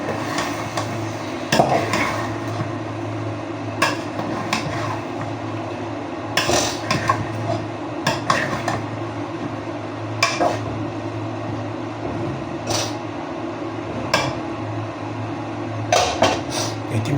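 Pot and utensil clatter as eggplant goes into a simmering pot of adobo in a home kitchen: scattered sharp clanks and knocks over a steady low hiss, with no talking.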